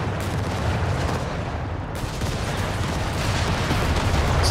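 Gunfire and artillery in Company of Heroes 3 during a 1v1 battle, a dense, loud wash of shots and booms with no clear individual cracks, continuous throughout.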